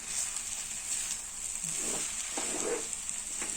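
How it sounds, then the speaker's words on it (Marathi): Raw mango pieces frying in ghee give a steady, soft sizzle with faint stirring clicks, close and continuous for a few seconds with no talk. "त्यामुळे थोडस तुपामध्ये फ्राय होईल"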